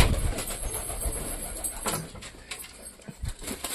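Pet pigeons coo in soft, low throaty bursts close by, with light rustling and a few faint background noises between the calls.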